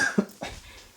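An elderly man with a cough that has lasted over a week gives two short, fairly quiet coughs close by, followed by a faint breathy trailing sound.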